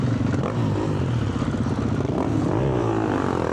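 A Beta RR390 X-Pro enduro motorcycle engine races through a slow, technical forest course, roaring loud and steady close to the rider with constant throttle changes and rattling, no pauses.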